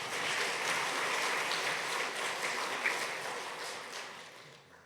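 A church congregation at a Sunday service claps together to bless two children, a fairly soft, distant round of applause that holds steady and then gradually tapers off over about five seconds.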